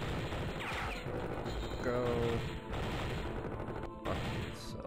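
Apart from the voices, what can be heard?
gunfire shooting terrorists in a video game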